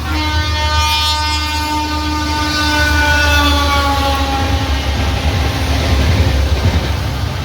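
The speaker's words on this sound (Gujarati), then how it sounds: "ચાલો તમને ટ્રેન બતાવું." A passing train rumbles loudly and continuously nearby, its long horn sounding with a sustained tonal blare over the heavy rolling roar of the wheels.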